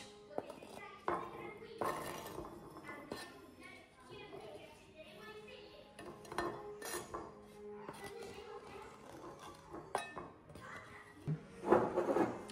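Dishes and cutlery clink and knock intermittently as Italian bruschetta is moved onto a plate, with faint voices in the background.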